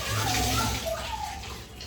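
Dishes being scrubbed and rinsed under running tap water at home, a steady close splashing stream with a voice speaking over it.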